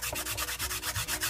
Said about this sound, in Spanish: vamos a tomar una lima de uñas o una lija y vamos a limar todos los lados